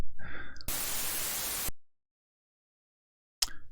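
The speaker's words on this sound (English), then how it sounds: "I hear a hiss of white noise." Harsh white-noise hiss from an unlicensed Silen Audio Infinite Flow plugin bursts in loud and steady for about a second after brief faint tones, then cuts to silence before a short crackle at the end.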